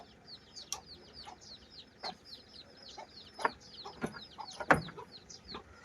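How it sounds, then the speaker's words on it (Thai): Chickens cluck in a series of short, scattered calls at a temple merit-making rice offering in a Lao village, Salavan province, with birdsong chirping continuously in the background and no voices. "ไก่"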